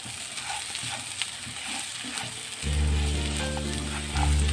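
Khichuri of rice and lentils fries in a pan with quiet sizzling and clicking scrapes of stirring. A steady low hum then comes in partway through and continues to the end.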